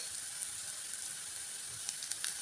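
Carrot with ginger garlic paste sizzling in a pan, a steady, even hiss with a few brief crackles and pops near the end, close and continuous throughout.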